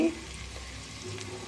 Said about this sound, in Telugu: ముక్కలు పూర్తిగా ఫ్రై ఈ విధంగా ఫ్రై చేసుకోవాలి